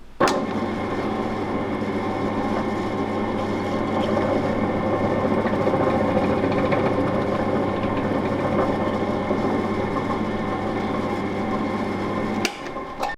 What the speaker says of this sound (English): We've got to drill the control unit here.